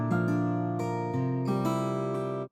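A smooth guitar melody for a trap-style beat uses pitched-up doubled notes for a strum effect, sustained tonal notes changing in steady steps, loud and continuous with no voices.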